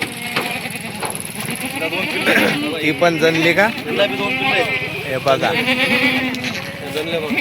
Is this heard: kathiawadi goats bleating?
yes